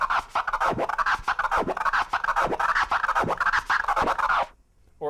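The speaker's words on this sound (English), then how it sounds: "the most simple version of this would just be to do a crab on your forward stroke and a crab on your backward stroke" A DJ works a crab scratch on a turntable record, cutting on both forward and backward strokes in a fast, even chain of rhythmic chirps that stops abruptly near the end.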